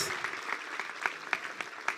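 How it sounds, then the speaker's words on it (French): Scattered applause from a conference audience thanking the organizing team, fairly faint individual claps in an uneven rhythm, brief and without talk. "Let's give them a hand."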